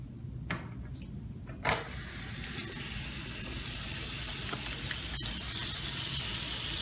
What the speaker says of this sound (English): The examiner should remove the gloves used for the extraoral exam and perform a hand wash.